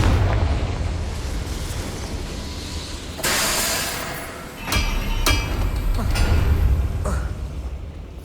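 A Confringo blasting spell goes off in the video game Hogwarts Legacy: several sharp explosive bursts over rumbling background ambience, with one big blast followed by two quicker cracking pops.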